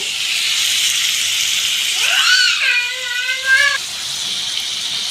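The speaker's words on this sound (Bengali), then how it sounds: "আমি এই পেস্টটা এতে দেব।" A spice paste of cumin, mustard, poppy seed, sesame and chili goes into a hot pan with amaranth stems. It makes a loud, steady hiss with a brief tonal squeal partway through.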